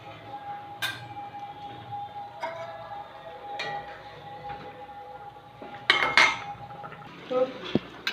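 Catla fish pieces go into a simmering curry in a pan, giving scattered metallic clinks and knocks of utensils against cookware over a faint background hiss, with a louder clatter near the end.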